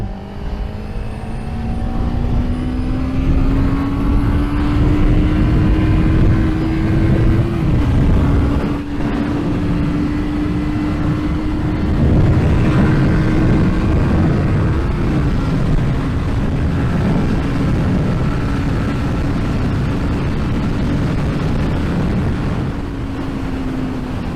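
A Kawasaki ER5 motorcycle engine drones steadily while the bike rides, with the pitch falling at each downshift from fifth gear through to first, loud and close with wind noise throughout.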